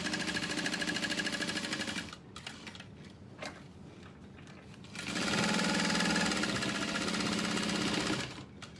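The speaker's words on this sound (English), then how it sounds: "then I'm going to sew it from the back side along all the edges" A sewing machine stitches along the edges of a satchel from the back side, running steadily and close, easing into a slower irregular patch of stitches, then speeding up again into a strong continuous whir.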